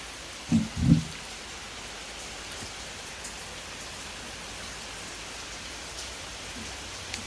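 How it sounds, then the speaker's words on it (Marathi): Steady rain falls, a soft continuous hiss of drops on surfaces, with two brief low thumps near the start. "पाऊस पडतोय"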